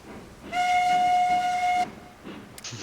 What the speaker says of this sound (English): Give us a bit of whistle.